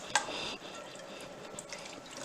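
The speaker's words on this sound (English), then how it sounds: "I take and rinse the inside of the can out with the tuna in it." Tap water runs steadily into an open tuna can as it is rinsed over a sink, a close, continuous splashing rush with a brief clink at the start.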